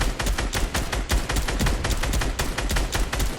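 Rapid, steady gunfire in a Fortnite Battle Royale match, shots cracking in quick succession at close range for the whole stretch, with no pause.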